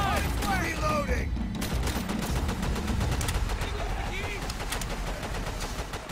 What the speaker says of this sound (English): I want suppressing fire on those MGs.